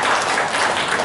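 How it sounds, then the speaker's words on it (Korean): Audience applause at a newspaper's New Year reception in a Gumi wedding hall, a brief, full burst of many people clapping together, loud and continuous. "제가 한번 여러분들에게 박수 한번"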